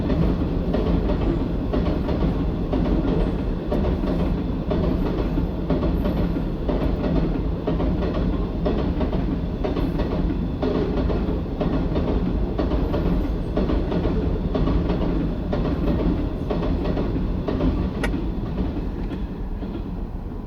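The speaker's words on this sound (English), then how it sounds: "Aha, it is a steel train." A long freight train carrying steel rumbles steadily past close by near a level crossing, wheels clacking rhythmically on the rails, loud and continuous throughout.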